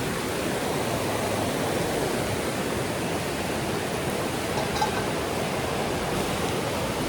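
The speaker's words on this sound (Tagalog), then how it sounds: "Ang lakas ng ulan, oh." Heavy rain pours down in a dense, constant hiss, loud and unbroken throughout.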